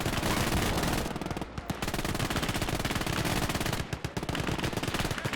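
Loud, sustained machine gun fire in the World War II video game Gates of Hell, with rapid continuous bursts and brief gaps as an MG position is pushed in a snowy Battle of the Bulge scene.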